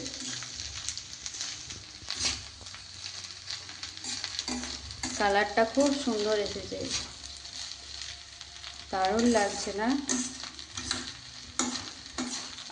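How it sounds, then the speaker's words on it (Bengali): Leftover rice is stir-fried in a pan with a steady sizzle and the repeated scrape and clatter of a spatula stirring, close and moderately loud, while someone talks at intervals over the cooking. "এবার আরও একটু ভাজা ভাজা করে নেবে"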